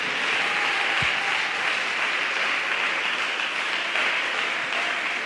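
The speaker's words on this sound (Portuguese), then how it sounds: "Pode dar uma salva de palmas para Jesus aí" A church congregation claps together during a live evangelical service, a steady, dense wash of applause that holds at an even level throughout, with no voices over it.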